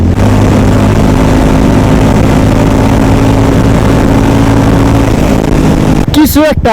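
A 350cc motorbike engine on a highway gives a steady, loud mid-pitched drone throughout. It ends with a brief change in tone near the end.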